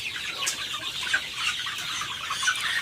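Young chicks in a brooder cluck and peep softly while scratching through fresh bedding, a busy scatter of small calls at low, even level with no voices.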